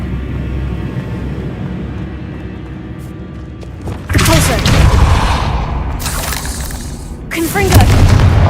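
A Confringo blasting spell explodes in a video game, set in a decayed catacomb: after a quieter rumbling stretch, two heavy booming blasts burst out, each followed by crackling debris, loud and close.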